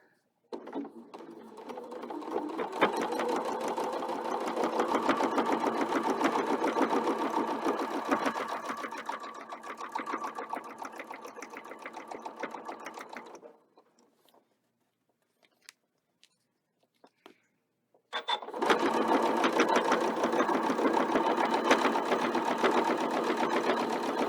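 A sewing machine stitches sashing on a quilted table runner in two long, steady, whirring runs split by a pause of near silence with a few small clicks, sounding close and loud.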